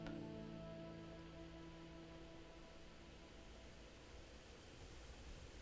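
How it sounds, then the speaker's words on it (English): Steady rain in the video game Kingdom Come: Deliverance patters and hisses evenly throughout, a soft continuous wash with a faint low hum underneath. "Oh, it's raining again."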